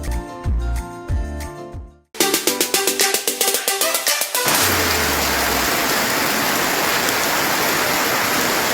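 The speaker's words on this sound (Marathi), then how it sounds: "वैभवडी तालुक्यात आता अवकाळी पावसाने हजेरी लावलेली आहे" Unseasonal rain pours steadily over Vaibhavwadi taluka, a dense, even hiss that runs for about four seconds after an opening stretch of music, with nothing else heard.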